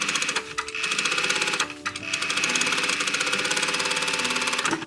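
A sewing machine top-stitches quarter-inch seams on snake-print fabric, its needle chattering in a fast, steady run with two brief pauses, close and fairly loud with no talk.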